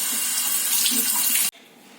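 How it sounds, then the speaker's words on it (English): Tap water runs loud and close while eggplants are washed, a steady splashing hiss that cuts off abruptly after about a second and a half, leaving quiet room tone. "The first step, to wash the eggplants."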